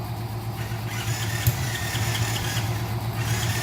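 A truck engine, just started after choking, runs at a steady low idle with a continuous rumble and a brief knock partway through.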